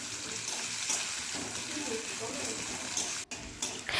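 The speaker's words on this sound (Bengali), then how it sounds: "এবার একটা মাঝারি সাইজের পেঁয়াজ কুচি তেলের মধ্যে দিয়ে দিচ্ছি" Chopped onion frying in hot oil for a lentil and bottle-gourd recipe, a continuous close sizzle and hiss that sounds somewhat like running water, with a brief break near the end.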